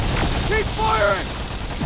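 Sustained gunfire and explosions in a Terminator Resistance battle, a dense continuous roar of shots and blasts with overlapping shouted voices and harmonic electronic tones cutting through the din.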